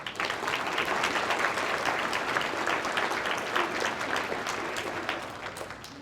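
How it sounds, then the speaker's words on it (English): Audience applause fills a banquet hall at a county conservation awards dinner, a dense, steady clapping from a sizable crowd that holds for about six seconds and eases slightly at the end. "I think that in itself deserves a round of applause."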